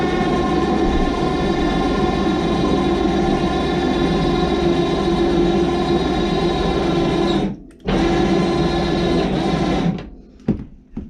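A winch motor hauls a fold-up bed upward inside a small 120-square-foot mobile tiny house, humming steadily and loudly for several seconds before stopping briefly, resuming and then cutting off.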